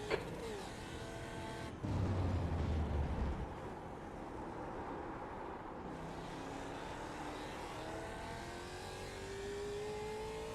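A Ford race car in iRacing at Phillip Island roars close by. A loud rasping burst comes early as it slows through a corner, then the engine climbs steadily in pitch under acceleration, with no voices.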